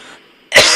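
A man clears his throat once, loud and close, in a short harsh burst after a moment of quiet room tone.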